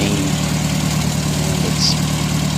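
A 1955 Ford 850 tractor fitted with a 1954 Sherman backhoe idles close by, its old engine holding a steady, loud low rumble with no change in pace; a voice speaks one brief word over it.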